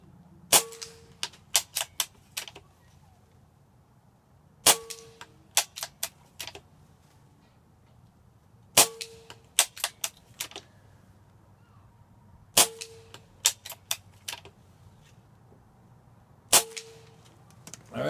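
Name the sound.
Benjamin Armada air rifle firing JSB Diablo Exact Jumbo Heavy pellets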